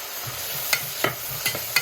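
Sliced onions and curry leaves fry in coconut oil in a pan for crab roast, with a steady sizzle broken by several close scraping stirs of a spoon, and nobody speaks.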